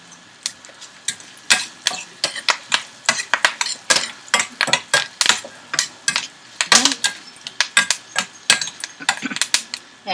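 A tempering of red chili, hing and curry leaves is stirred in hot oil, giving sharp irregular crackles and clicks, close and fairly loud, that come in quick bursts with short gaps.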